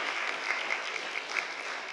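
An audience at a civic education talk claps steadily in a dense, even wash of applause, a few louder claps standing out near the front, with no talking over it.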